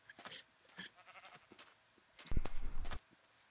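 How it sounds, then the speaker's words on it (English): A sheep bleats in the Minecraft video game, a short nasal call that is fairly close and moderately loud, following a few softer scattered game sounds. "that's a sheep."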